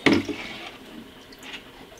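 Liquid pours into a measuring cup while fumigating beehives against Nosema, a short splash at the start trailing into a soft, close trickle with no talk.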